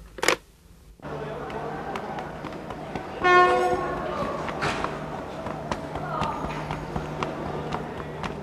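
Passing train with a short horn blast, rumbling steadily throughout with a brief louder burst midway, accompanied by a faint voice and scattered clattering.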